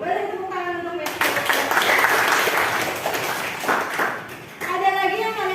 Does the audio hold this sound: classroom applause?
yes